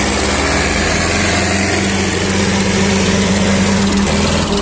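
Two tractors, an Eicher 557 and a Sonalika in the 60 HP class, run together under load during a tochan pulling test in Haryana, giving a loud, steady diesel drone with a constant low hum and no talk.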